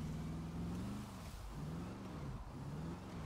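Turbocharged Can-Am engine fitted with an aftermarket exhaust, a steady loud drone with its pitch rising and falling as the throttle changes, running continuously with no talk over it.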